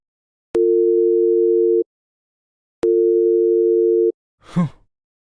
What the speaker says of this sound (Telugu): ఒక్కసారి మళ్ళీ ఫోన్ చేసి చూస్తా